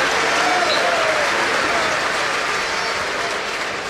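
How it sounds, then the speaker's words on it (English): A large stadium crowd at Old Trafford applauds warmly and steadily for Luis Figo during a Manchester United versus Real Madrid legends match, a dense, continuous wash of clapping with a faint murmur of crowd noise underneath. "warm applause for the man he's replacing"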